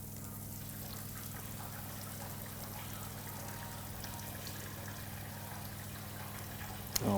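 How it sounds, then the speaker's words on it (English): Water running steadily from an RV faucet in a Winnebago View as antifreeze is flushed out of the plumbing, a constant close hiss with a low hum underneath, ending in a brief louder clatter. "Okay, now we're starting to get the clear water come out."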